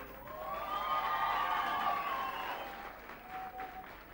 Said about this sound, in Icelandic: fagnaðalátanum ætlaði aldrei að linna.